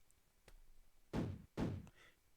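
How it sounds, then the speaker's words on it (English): Two dull knocks on a door in the farming game Harvest Moon, close and distinct with a brief pause between them, preceded by a faint softer tap, against near silence. "if you listen, knock of everyone else compared to the Harvest Sprites"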